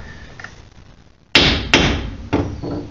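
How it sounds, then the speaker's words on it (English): Three sharp metallic taps of a brass hammer on a differential shim, setting backlash on a Ford 8.8-inch rear axle, spaced unevenly and close by, over a quiet background hum. "So I'm just going to take a brass hammer, and it shouldn't require heavy hammering."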